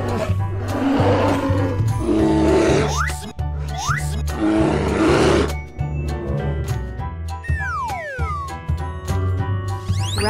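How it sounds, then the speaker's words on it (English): A bear roars and growls in long, deep, rough bursts, loud and near, followed by fainter squealing calls. "Bear."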